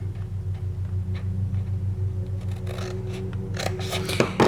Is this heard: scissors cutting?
yes